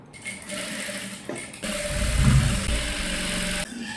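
A sewing machine stitches slippery gown fabric for a young girl's dress, first in short, quiet bursts and then in a louder, steady whirring run that stops abruptly near the end.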